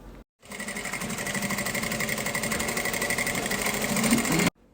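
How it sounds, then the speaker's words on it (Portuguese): A sewing machine runs in one steady, close burst of rapid stitching through the fabric lining of a triple-compartment school pencil case, then stops abruptly. "Eu puxo aqui e venho e continuo essa costurinha, ó, prendendo todo mundo."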